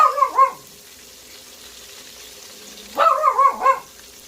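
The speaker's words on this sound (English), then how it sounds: "And that's my dog barking." A dog barks in two short bursts of several quick barks, separated by a quiet pause, fairly close and loud.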